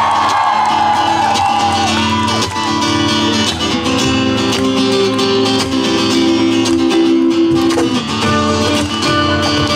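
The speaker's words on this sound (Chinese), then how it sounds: "来点尖叫声！" A concert crowd at an outdoor seaside moonlight music show screams and whoops loudly and continuously over amplified music, a dense wall of cheering throughout.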